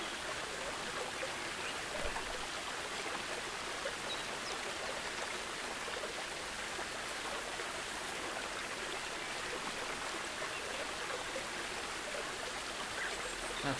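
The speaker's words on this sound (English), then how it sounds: "Splashes, jets and little bubbles." Water splashing and bubbling from fountain jets in Planet Zoo, a steady hissing wash of spray that stays even and unbroken throughout with no talking.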